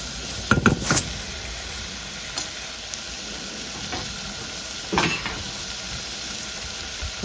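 Vegetables and potatoes sizzle steadily in hot oil in a pan, a continuous frying hiss broken by a few clattering stirs near the start and again later.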